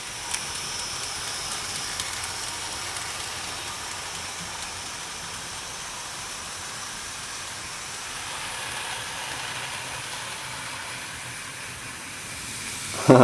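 Model trains run together, a Caledonian locomotive and an Emily engine, giving a steady soft hissing rush of wheels and motors for over ten seconds, even and fairly faint, ending in a brief louder clatter.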